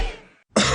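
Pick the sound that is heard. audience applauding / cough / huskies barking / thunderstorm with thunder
cough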